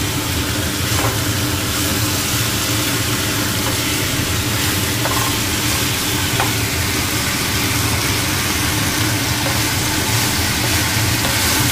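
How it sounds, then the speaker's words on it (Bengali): Bottle gourd sizzles steadily in hot oil in a pan for a fish-head lau ghonto, a continuous dense frying hiss over a low hum, with no one speaking. "তারপরে এটাকে নাড়তে থাকি তেল দিয়ে"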